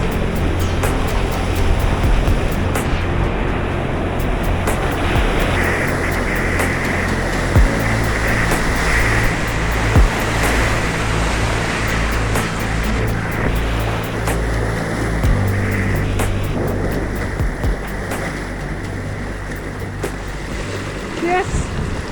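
A motorboat engine on the Piteälven river drones loudly and steadily, revving in stages over rushing water and wind, with a voice talking intermittently over it.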